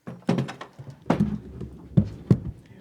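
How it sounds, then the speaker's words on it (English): Deep, distant booms from mining blasts near a high-desert canyon trail in the Excelsior Mountains, several dull thuds spaced irregularly over a faint outdoor background. "The booms were from nearby mining activity."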